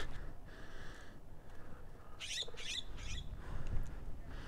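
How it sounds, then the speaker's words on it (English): Birds chirp outdoors in short high bursts, a few quick tweets standing out over steady wind and background noise. "Birds."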